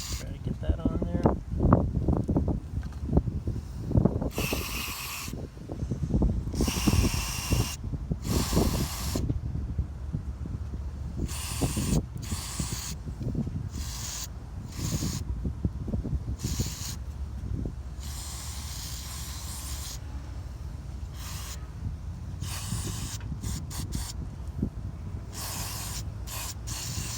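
Cleaner sprayed onto the mass air flow sensor of a 2004 Lincoln Town Car, heard as repeated short hissing bursts of varying length, close by, with a voice talking at the start.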